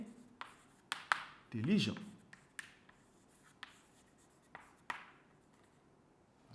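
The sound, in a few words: writing by hand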